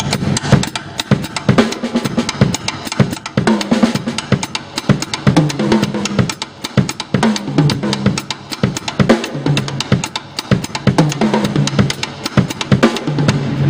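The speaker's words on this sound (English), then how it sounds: "and then your right hand just doing whatever ghost notes you want, the foot always stays there." A dense, loud drum groove on a kit: a steady kick pattern holds underneath while quick, quiet ghost-note strokes fill the spaces, played continuously without pauses or talking.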